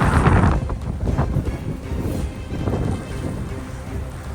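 Strong gusty wind of a winter storm in Canada blows snow around, buffeting the microphone in loud rushing surges that swell and ease over a few seconds.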